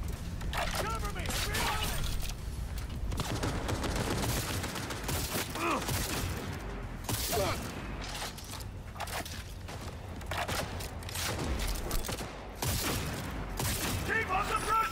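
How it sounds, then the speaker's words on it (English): Close-range gunfire erupts in the Cyberpunk 2077 video game as dense, continuous bursts of shots and sharp cracks, loud and near, with booms and mechanical clatter mixed into the barrage. "Fire! Firing at close range."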